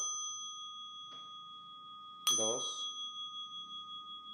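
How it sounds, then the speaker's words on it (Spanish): A meditation bell rung during zazen seated meditation hums with a sustained, fading tone, then is struck again loudly, leaving a long, shimmering, pulsing decay; a voice briefly speaks over it. "van a sonar las 3 campanas"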